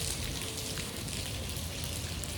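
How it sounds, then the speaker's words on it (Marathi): Heavy rain pours down hard and without letup on a road, a dense, loud, even roar of drops striking surfaces with no voices over it. "एवढा जोरात पाऊस पडतोय ना, डेंजर पाऊस पडतोय."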